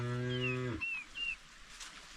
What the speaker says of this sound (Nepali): यहाँ गाई छ हो